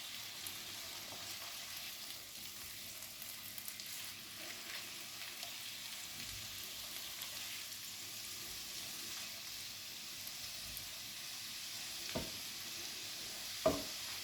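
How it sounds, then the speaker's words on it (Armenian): Onions fry in a pan while being stirred: a soft, steady sizzle runs throughout, with a couple of sharp scraping clicks near the end. "Որ լավ տապակվի սոխարեցի մեջ։"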